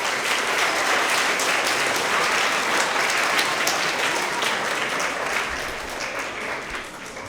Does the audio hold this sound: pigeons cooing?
no